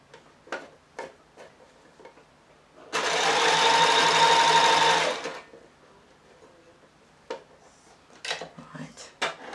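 A sewing machine runs in one loud, steady burst of about two seconds, stitching a dress across the shoulder. Quiet ticks and handling clicks come before and after it.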